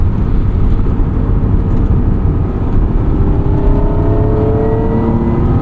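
A 1996 Acura NSX-T with a 5-speed manual driven hard into corners, its engine droning loudly and steadily from inside the cabin as revs climb, with rising whine and road noise and no talking.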